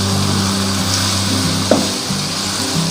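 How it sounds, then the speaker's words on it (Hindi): Minced meat keema cooking in a pan with spices gives a loud, steady sizzle and frying crackle, with a brief scrape of stirring midway and low hums underneath. "अब इसमें मैं ये कीमा डाल दूंगी"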